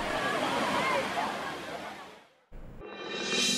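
Water pours down Monkey Falls waterfall at Aliyar as a loud, dense, continuous rush that cuts out briefly before the roar returns.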